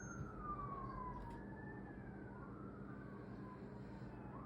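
An emergency vehicle siren wails in slow rising and falling sweeps, distant and faint over a steady low rumble of traffic or engine noise, with no voices.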